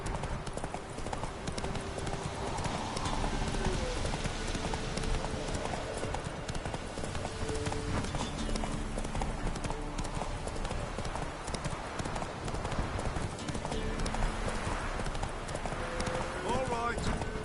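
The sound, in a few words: horse Roach galloping in The Witcher 3 video game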